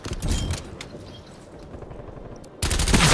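Rapid video-game gunfire rattles loudly in a short automatic burst, falls to a low rumble for a couple of seconds, then erupts again in a second loud burst.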